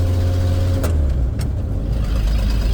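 A 1976 Ford F250's engine revs up quickly with the clutch held down during a gear change, a loud, close, rough motor roar whose pitch climbs and then settles back.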